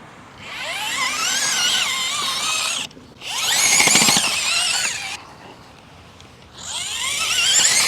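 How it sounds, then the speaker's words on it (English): A power auger drill bores holes into heavy clay garden soil, its motor whining loudly in three long bursts separated by short pauses, with grinding and squealing as it bites into the ground. "So I'm going to dig up a couple holes."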